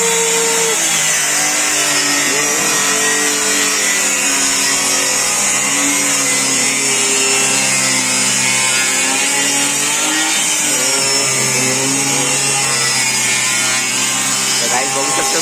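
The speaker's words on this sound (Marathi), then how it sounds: "तर गाईज आता याची कटिंग होणार आहे आता प्लायची." A power saw rips through a 9-inch plywood sheet at a construction site, a loud, continuous grinding whine that holds steady for the whole stretch with slight shifts in pitch, while a person talks over it now and then.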